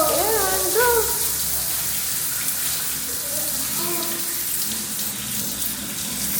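At a car wash, water spray hisses steadily against a car, with voices talking over the continuous rush.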